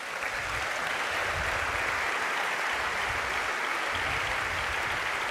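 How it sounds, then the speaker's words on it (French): Applause from a conference audience at a French business federation's opening session, a steady, fairly soft mass of clapping heard from some distance with no speech over it. "Merci de les applaudir."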